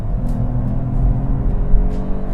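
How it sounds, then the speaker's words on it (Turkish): A new Peugeot 408 accelerates from 60 km/h, heard from inside the car as a steady, loud engine drone and road rumble that gradually swells, with no talk. "Yani otomobil şöyle bir size 60 kilometreden bir Ara hızlanma yapalım"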